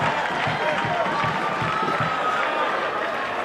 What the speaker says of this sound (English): the crowd are in raptures and on their feet